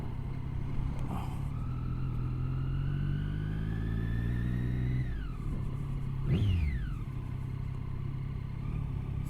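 A 2013 Triumph Daytona 675 motorcycle engine, ridden close, holds a steady note that falls away under engine braking in first gear, then snaps up in one sharp throttle blip before settling again.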